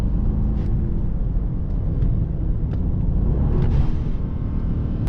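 Low engine roar from a 2023 Mercedes-Maybach GLS900 Brabus accelerating through a tunnel, a steady heavy rumble that swells slightly with faint whooshing turbo tones on top, no voices.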